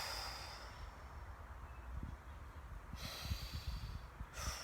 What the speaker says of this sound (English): Big deep breath in.